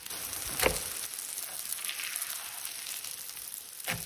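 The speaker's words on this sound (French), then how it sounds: "Dès qu'on voit le msemen qui commence à cuire, on le retourne." Stuffed Moroccan msemen flatbread cooks in a hot pan with a steady, close sizzle and a faint scrape or clink near the start, with no talking.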